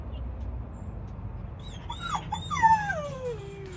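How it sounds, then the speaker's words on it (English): A jealous dog near a flock of backyard chickens whimpers in high, wavering whines that rise and fall in a short run, faint at first and then louder and closer, over a quiet outdoor background. "And then we have our freaking jealous dog"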